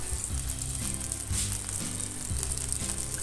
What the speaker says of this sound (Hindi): तो ये देखिए मैंने दो चम्मच इसमें तेल डाल दिया है। अब हम डाल देंगे इसमें प्याज।